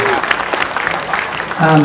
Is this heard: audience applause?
yes